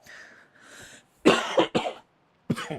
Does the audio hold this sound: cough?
yes